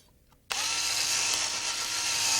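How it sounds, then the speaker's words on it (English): A power drill cuts out a rivet head on a Rotorway 162F helicopter, starting after a short quiet moment and then whining steadily and loudly at close range for the remaining seconds. "Drill out the head of the rivet by rotating the drill in an elliptical manner."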